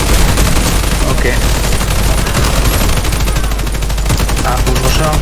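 Rapid bursts of loud video-game gunfire fill the scene almost without pause, dense and close, while a player's voice talks over the shooting.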